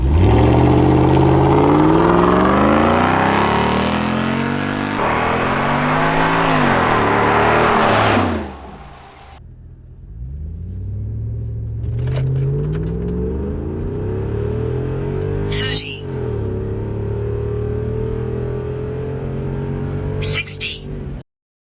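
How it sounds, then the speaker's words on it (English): A lifted Land Rover LR4 accelerates hard from a standstill toward 60 mph, its engine climbing loudly through the gears with audible shift drops, then easing into a steadier drone. A voice speaks over the engine. "in case you were ever curious on what a lifted LR4 can do 0 to 60 in"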